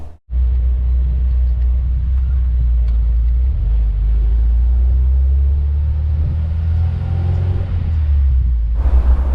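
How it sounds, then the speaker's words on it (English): A 1977 MGB roadster engine catches almost immediately and settles into a loud, steady, low rumbling idle that runs close by for the rest of the clip. "see if the car will actually start, and then it will run"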